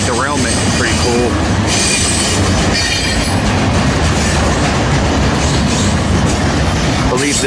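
A long Norfolk Southern freight train, 63B, rolls past close and loud on the Harrisburg line, with continuous wheel rumble, clattering cars and high squealing wheels throughout.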